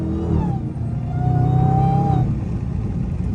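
Dodge SRT Hellcat engine whining and rumbling under hard acceleration, a steady rising supercharger whine over a loud low roar close by, no talking.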